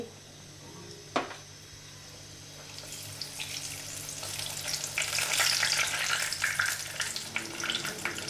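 Potato puris frying in hot oil, a steady sizzling hiss that swells and grows denser partway through, with a sharp click near the start and no talking.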